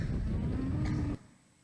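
Cattle being fed oat and hay let out a single low, drawn-out moo close by that cuts off abruptly, leaving quiet afterward.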